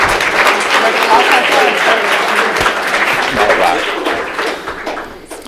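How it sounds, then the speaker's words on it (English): A school board meeting audience applauds, a full round of clapping with a few louder individual claps standing out, tapering off near the end. "Can we give them a round of applause?"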